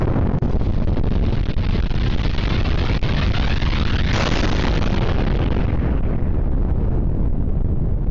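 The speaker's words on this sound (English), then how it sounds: "They're doing the airstrikes, massive explosions." A continuous roaring, rumbling blast from airstrikes fills the whole stretch, loud and dense like a huge distant explosion, with wind buffeting the microphone.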